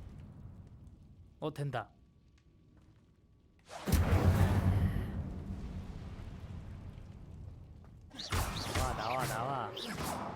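Incendio fire spell cast in the video game Hogwarts Legacy, a sudden loud burst of roaring, crackling flame and whoosh that trails off, followed by a second fiery burst; someone speaks briefly between.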